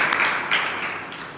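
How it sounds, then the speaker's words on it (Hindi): A classroom audience claps loudly and briefly after a call for applause, a dense burst of hand claps with a couple of sharper surges. "तालियां बजाओ भाई जोर से।"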